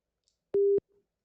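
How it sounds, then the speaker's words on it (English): A single steady computer beep tone generated by the WinTask Beep function, lasting about a quarter second at one pitch, clean and alone against silence. "based on the presence of a beep sound"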